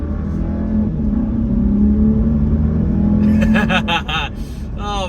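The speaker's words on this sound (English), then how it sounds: "Get a little acceleration boost here." A Jeep Grand Cherokee 4xe plug-in hybrid accelerating in city driving with electric mode off: a steady engine drone builds and holds, with a person talking over it near the end.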